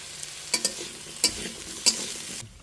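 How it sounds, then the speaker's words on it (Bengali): Potatoes frying in hot oil in a wok, unseasoned, for a village-style khichuri, give a steady sizzle with a few sharp stirring scrapes and clacks. The sound is close and there is no talk. "আলুগুলোকে ভেজে নিচ্ছি আমি"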